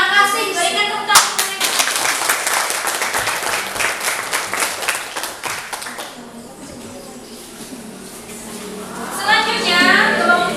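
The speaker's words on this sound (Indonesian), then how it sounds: "Berikan tepuk tangan." A group gives a burst of hand clapping in a classroom, loud and dense for several seconds before fading, with voices rising near the end.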